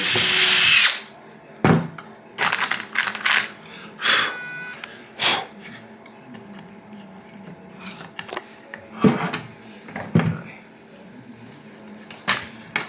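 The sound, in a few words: power drill driving screws into a wooden bed hinge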